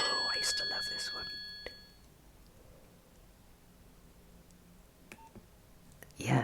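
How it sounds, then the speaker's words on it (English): A retro Nokia mobile phone plays an old-fashioned ringtone, a short run of bright electronic tones loud at first, then fading into quiet room noise with faint soft clicks. "Yeah, the old-fashioned phone."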